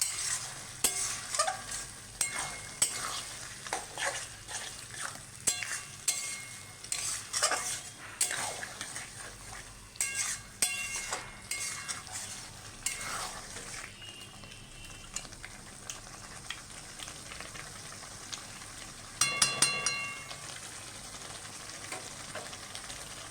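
Mutton sizzling and frying in a pot for Bengali-style handi mutton, with repeated metal spoon scrapes and clinks as it is stirred; close and steady, with no talk.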